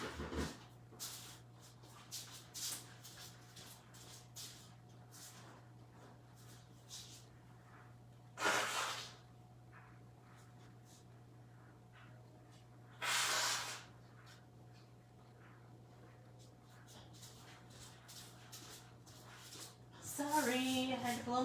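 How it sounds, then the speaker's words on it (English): A person blows their nose in several separate bursts, each a short, breathy, hissing honk, close to the microphone, between stretches of quiet rustling and a low steady hum. "Sorry, I had to blow my nose."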